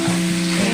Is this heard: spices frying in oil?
yes